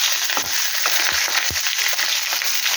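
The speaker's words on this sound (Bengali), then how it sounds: "5 ফোড়ন আর 15 লঙ্কা ফোড়নগুলো দিয়ে দিলাম" Panch phoron and chilies sizzle in hot oil in a wok, a dense, steady frying hiss with scattered crackles and soft stirring knocks, heard close and loud.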